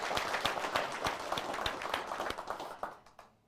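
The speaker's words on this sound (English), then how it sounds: "a huge round of applause to thank them and encourage them in their journey" Audience applause at a tech conference kick-off, many hands clapping at moderate volume, gradually thinning out and fading toward the end.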